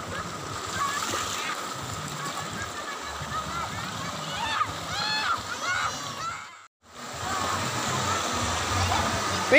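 A clean, clear river stream at a tourist spot rushes and splashes steadily and close, with voices talking over the water.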